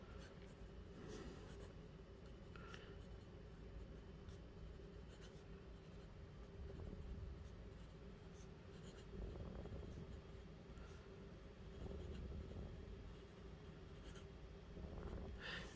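Cross Bailey Light fountain pen nib scratching across paper as a sentence is written, a very faint, close, continuous soft scraping with small strokes and pauses throughout.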